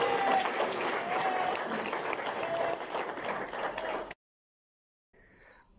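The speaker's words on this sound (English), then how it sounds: "A better clap for Jesus." A church congregation claps for Jesus, a full, steady burst of applause that cuts off abruptly, followed by a brief faint sound after a short silence.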